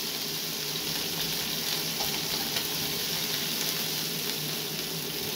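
Steak fries in a pan at medium heat, giving a steady, dense sizzle that holds at an even level throughout with no voices.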